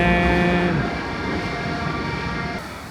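Budapest subway train running in a tiled underground station, a loud steady rumble and rail noise with a horn-like tonal note at the start, fading slightly toward the end.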